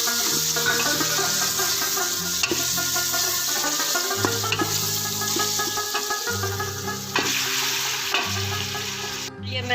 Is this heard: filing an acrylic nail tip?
no